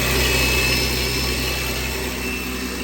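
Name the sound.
BMW 440i turbo engine cold start idling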